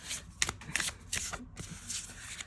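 A deck of Love Oracle cards is shuffled by hand, quick riffling bursts and soft flicks repeating in short clusters, close and fairly quiet.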